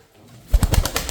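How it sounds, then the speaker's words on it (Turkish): A short burst of low, throaty cooing from nearby pigeons after a brief quiet moment. "Sesli, süratli oynayan kuşlar."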